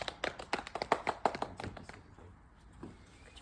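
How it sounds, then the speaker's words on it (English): A small crowd at a mock wedding ceremony gives a short round of applause for a reader: a quick, uneven patter of hand claps, close and moderately loud, that thins out and fades within a couple of seconds. "Give Poppy a round of applause, everyone."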